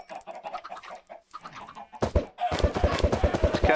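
Angry chickens cluck in the Minecraft video game after being hit by thrown eggs. Short bursts of clucking come first, then a louder, denser stretch of rapid rhythmic clucks with steady low thumps underneath.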